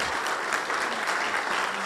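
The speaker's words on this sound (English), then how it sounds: "Keep clapping as he comes, please." An audience at a business and vocational training event claps to welcome a speaker to the stage, a dense, steady round of applause close by with no break.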